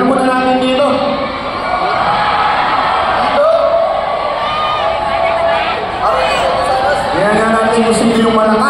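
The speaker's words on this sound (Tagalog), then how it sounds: "Kung yung malakas ang sigawan." A crowd of political supporters shouts and cheers loudly at a rally, and voices rise together in yells and whoops. The noise is close and continuous, with swelling peaks over about nine seconds.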